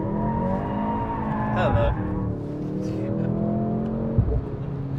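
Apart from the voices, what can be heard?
Mercedes C63 AMG revving in drift mode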